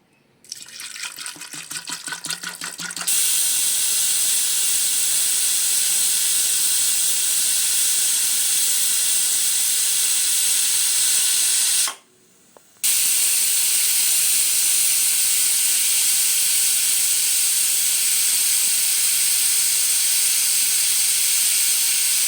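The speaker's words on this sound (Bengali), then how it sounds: "এখন এগুলো আমি প্রেশার কুকারে সিটি দিয়ে একটু সিদ্ধ করে নেবো" A pressure cooker boiling soaked kabuli chickpeas lets off a loud, continuous steam hiss. It starts after a short rattling build-up, drops out briefly, then resumes just as strongly.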